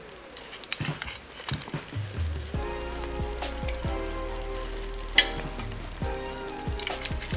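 Food frying in olive oil in a pan for a basic tomato spaghetti sauce, a steady close sizzle with occasional stirring clinks and scrapes, no talking.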